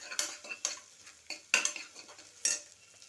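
Tomatoes and mint with ginger-garlic paste sauté in a pan for peanut rice, a spoon scraping and clinking against the metal in a few sparse, fairly quiet strokes over a soft sizzle, with no voices.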